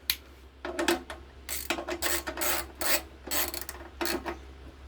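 A socket ratchet clicks in quick repeated strokes while tightening a bolt on a lawn mower, close and crisp with short pauses between bursts.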